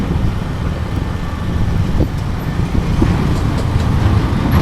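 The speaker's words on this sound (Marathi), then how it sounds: "बदलापूरच्या ट्रॅफिक मध्ये अडकलेलो आम्ही" Road traffic in Badlapur, in stop-and-go congestion on a rough road, rumbles steadily with engine noise and the passing hiss of vehicles, continuous and fairly loud from close by.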